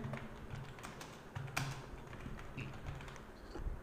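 Quiet tapping of a computer keyboard as a file name is typed, with a steady run of soft, closely spaced keystrokes and one slightly louder press partway through.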